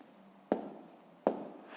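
Pen or pencil strokes on paper while numbers are worked out for a fifth-grade multiplication exercise, heard as two short, distinct scratching taps about three-quarters of a second apart, close and fairly quiet over a soft room hiss.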